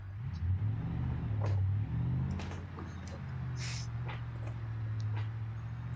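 A car engine revs on a circuit, a steady mid-pitched drone with a couple of rising revs early on, fairly close and continuous, with light knocks and clicks over it.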